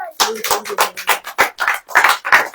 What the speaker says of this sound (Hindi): ताली बहुत धीरे बज रही।